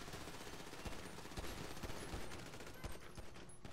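Shots ring out in the online game FiveM as a dense, steady stream of rapid gunfire and overlapping fusillade pops, all at an even, moderate level and without any speech over them.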